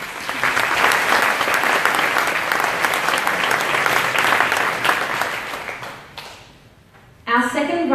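An audience gives finalists a sustained round of applause at the 2017 VicSRC Recognition Awards for students. The clapping stays loud and dense, then fades away, and a voice starts speaking at the end.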